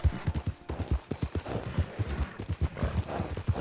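Horse hooves clip-clopping in the video game Red Dead Redemption 2, a steady trotting rhythm of low thuds, loud and close, with no talking.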